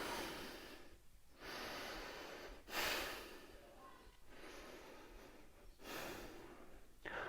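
Three slow, deep yoga breaths during a crouching pose, each a clearly audible, airy inhale and exhale close to the microphone, separated by short quiet pauses.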